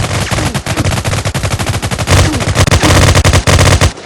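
Gunfire in a realistic shooting video game, loud rapid bursts of automatic shots in dense continuous volleys.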